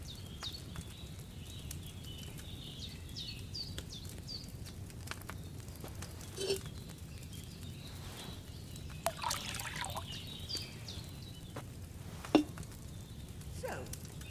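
Wine poured from a pitcher into a cauldron in the medieval game Kingdom Come: Deliverance 2, a soft steady trickle over a low ambient hum, with faint clinks and splashes scattered through.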